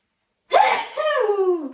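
A person lets out a single loud, close sneeze after a sharp intake of breath, followed by a trailing voiced exhale, with silence before it.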